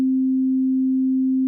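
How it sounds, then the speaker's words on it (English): A pure, steady electronic sine tone from Ableton's Wavetable synthesizer holds one low pitch at constant loudness, with no variation or other sounds. "So it's the sine wave."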